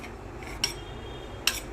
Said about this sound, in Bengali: এবার একটা কাটার দিয়ে সরু সরু করে কেটে দেব